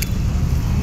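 Dense, steady rumble of heavy street traffic, engines droning low and continuous throughout a short moment on a busy road during a walk trip in the Philippines on November 1, 2024.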